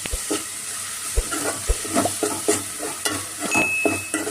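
Green chili paste sizzles in a pan while being fried for a bottle gourd curry, with a spoon stirring and scraping at intervals over the steady frying hiss, close by and without any talking.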